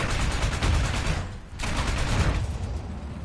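Heavy cannon and machine-gun fire from a Russian heavy tank in the video game War Thunder, loud continuous bursts of gunfire with a brief dip before firing resumes.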